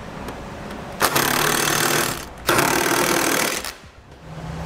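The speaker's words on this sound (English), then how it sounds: "you take a 3/4 inch socket and tighten everything down." A power tool with a 3/4 inch socket whirs in two sustained loud bursts, each a couple of seconds long with a short pause between, tightening trailer hitch bolts while installing a Curt hitch receiver on a 2011 Hyundai Genesis.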